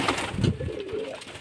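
Pigeons coo softly and close by around a new medium-size water drinker, giving a few short, low throaty calls.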